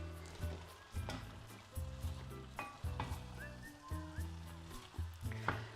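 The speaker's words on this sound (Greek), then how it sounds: "Βοηθάμε λίγο με μία ξύλινη κουτάλα να σπάσουμε τους σπόρους, καλαμπόκι." A wooden spoon stirs and breaks up corn kernels in a pot for a creamy corn soup with ginger, making soft rhythmic scraping and knocking over a gentle sizzle.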